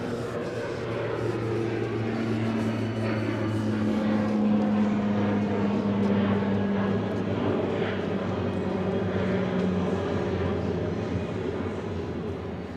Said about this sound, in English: Oh, we got a plane taking off.